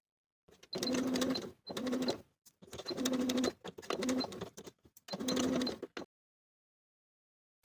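Sewing machine stitching the seams of a bralette's pinned lining and main pieces at a short stitch length, running in five separate bursts with brief stops between, fairly close and alone.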